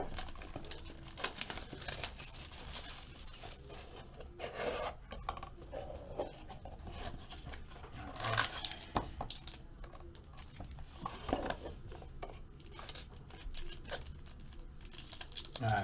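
A 2013 Topps Supreme Asia baseball card wax pack being torn open, with crinkling and rasping wrapper noises and soft rubbing of cards, steady and close, with several louder tearing bursts and no talk.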